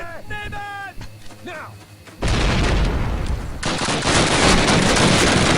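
A hand grenade explodes in the Call of Duty video game: brief talk, then a sudden loud, close blast that swells into a sustained heavy roar of booming, gunfire-like noise.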